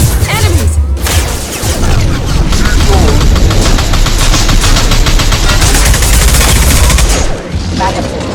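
Sustained bursts of automatic gunfire from a Mass Effect 2 firefight rattle loudly and nearly continuously, with heavy booming impacts mixed into the dense barrage and a short lull near the end.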